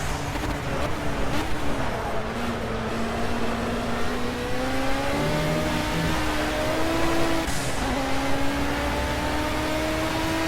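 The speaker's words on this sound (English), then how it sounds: "I was doing like blipping the throttle when you shift down, like you should, but it doesn't make a difference in this game." Ford race car in Project Cars, engine revving and droning steadily with shifting pitch as it accelerates and shifts, loud and continuous with a voice talking over it.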